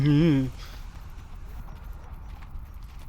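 A horse in the video game Neverwinter Online gives a short whinny, followed by a faint patter of hooves.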